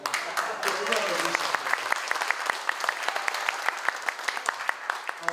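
Crowd clapping fills a regional balanced-development forum hall of the National Assembly in Andong and Yecheon, Gyeongbuk: brisk, sustained applause with crisp separate hand claps, a voice talking briefly under it at the start.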